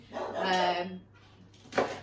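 A dog barks in a home kitchen during cooking, with a short, sharp bark near the end following a longer vocal sound, mixed with a person speaking nearby.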